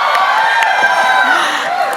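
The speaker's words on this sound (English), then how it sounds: "Big applause." A festival crowd at an outdoor flag-hoisting ceremony cheers, whoops and applauds continuously and loudly, with scattered shouts and high voices rising above the dense roar.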